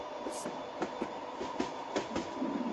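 A train runs in the video game Train Simulator Bangladesh with a steady rolling rumble and evenly spaced rhythmic clicks of wheels over rail joints, continuous and fairly close.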